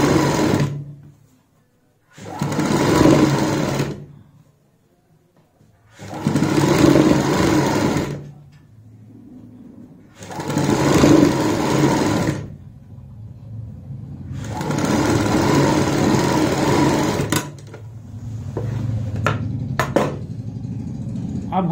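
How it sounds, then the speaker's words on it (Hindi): Sewing machine stitching a cuff sleeve for a kurti or blouse, running in about five loud close bursts of several seconds each, separated by near-silent pauses, with a few light handling clicks at the end. "ऐसे खींचते हुए सिलाई लगाएंगे।"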